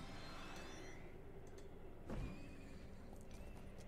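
A horse in the video game Frostborn whinnies over a steady background of clip-clopping hooves and game ambience, with one louder snort or thump near the middle; no talking.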